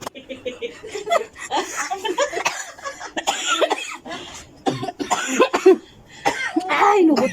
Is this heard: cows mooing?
no